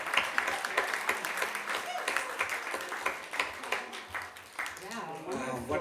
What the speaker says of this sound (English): Let's give the dancers to the Lord a clap.